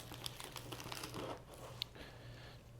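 A knife slicing through a mille-feuille nabe stack of layered ingredients, giving soft crinkly crunching and tearing sounds with a few sharper clicks, close and quiet over a low steady hum.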